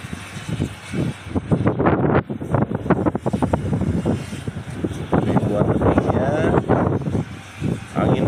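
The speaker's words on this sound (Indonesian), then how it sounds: "anginnya sangat kencang sekali teman-teman nih" Strong wind gusts buffet the microphone at a toll road construction site in Kebon Kawung with an excavator nearby, producing continuous rumbling blasts that rise and fall over a spoken voice.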